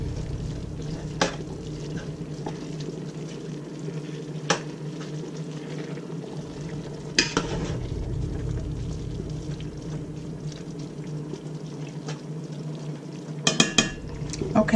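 Collard greens cooking in a pan for old-fashioned fried greens, with a steady low simmering hiss and bubbling plus occasional clinks of utensils and pan, close and continuous.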